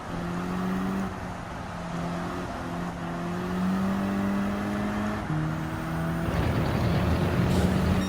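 A 2014 Audi TTS Coupé engine in Gran Turismo 7 at Tsukuba Circuit drones steadily as it climbs and drops through gear shifts, with rising revs and a rougher surge near the end.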